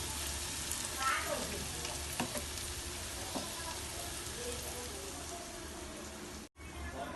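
Ingredients sizzle steadily in oil in a pan for vanjaram fish pulusu, a continuous close crackling hiss that cuts out for a moment near the end.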